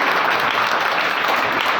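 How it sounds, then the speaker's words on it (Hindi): Children at a Gandhi Jayanti gathering burst into loud, dense applause, steady and close throughout with no talking. "इसके लिए मैं जोरदार तालियां बच्चों से चाहूंगा"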